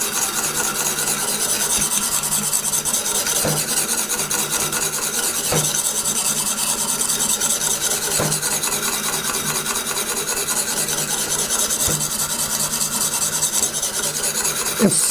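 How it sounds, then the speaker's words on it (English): Western Tanto knife being sharpened on a Tsprof Pioneer sharpening system, a continuous close rasping scrape of stone on steel with steady back-and-forth strokes, faint periodic ticks marking each pass. "Now, I'm sharpening a Tanto, a Western Tanto knife"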